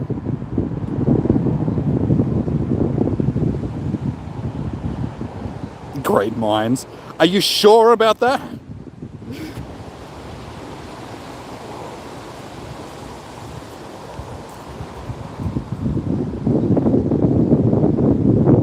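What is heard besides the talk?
wind blowing outdoors on a hot windy day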